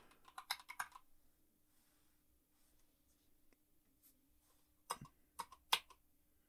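Keys tapped on a computer keyboard in a quiet room: a quick burst of clicks at the start, a long pause, then a second short flurry of keystrokes near the end.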